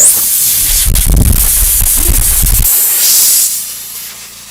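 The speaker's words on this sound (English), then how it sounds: "I don't know how to even adjust this airbrush. Or this air pump." An airbrush fed by an air pump sprays a loud, close hiss of air for about three seconds, with some low rumble and handling bumps, before the hiss fades to a quieter steady flow.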